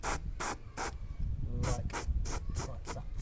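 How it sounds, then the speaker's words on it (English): Spray paint from an aerosol can hits bare metal on a van in a string of short, sharp hissing bursts, about nine in quick succession close by; a voice speaks briefly once. "I am going to spray the bare metal that I've created here from the filing and the drilling"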